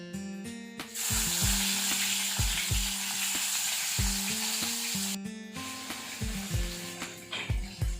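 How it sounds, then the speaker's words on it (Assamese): Fish frying in a pan for an Assamese sour fish curry, a steady close sizzle with intermittent knocks and scrapes from stirring or turning the pieces, no talking. "এতিয়া মই মাছখিনি ফ্ৰাই কৰি ল'ম।"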